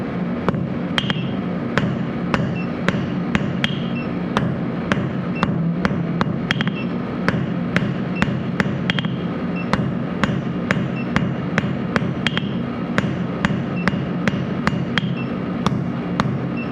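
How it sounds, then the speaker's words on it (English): A hammer strikes hot metal on an anvil while forging hooks, ringing out in a steady, evenly spaced series of loud, sharp blows over a low background rumble. "I hit the anvil."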